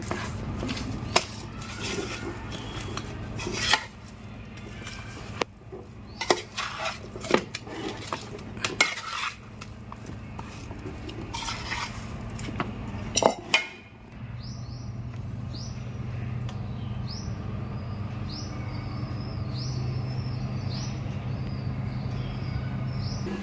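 A spoon clinks and scrapes against a dish while a mango pickle mixture is stirred, close-up and irregular for about fourteen seconds, before a steadier background hum with faint chirps takes over.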